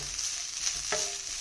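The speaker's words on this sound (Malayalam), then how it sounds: "തേങ്ങ വറുക്കാൻ ഇട്ടിട്ടുണ്ട്" Grated coconut frying in a pan as a Kerala snack is cooked, a soft steady sizzle running throughout with a brief stirring scrape midway, close and fairly quiet.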